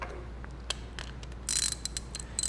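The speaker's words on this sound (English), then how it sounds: "Once it's hand tight, I can grab my wrenches" Wrenches working a nut onto a wheelchair caster wheel bolt, giving a run of small metallic clicks and ratcheting ticks, sparse at first and then a denser clattering burst, close by over a steady low hum.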